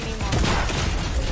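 Video game gunfire makes a dense, close burst of rapid shots and booms over about a second, a loud crackling fusillade with no pause.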